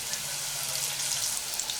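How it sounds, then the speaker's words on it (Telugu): Potato strips for French fries frying in hot oil, a steady bright sizzle that holds evenly throughout, close and moderately loud with no talk. "మనం ఇలా ఫస్ట్ కొంచెం లైట్గానే వేయించుకోవాలి."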